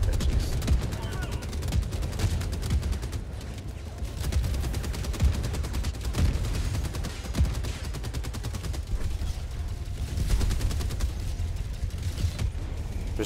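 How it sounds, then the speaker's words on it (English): Chaotic Helldivers 2 battle against automatons: sustained rapid gunfire and machine-gun bursts, with heavy explosion thuds going off throughout, loud and dense for the whole stretch, with a player's voice talking over it now and then. "So much like explosions, you can't see anything airborne."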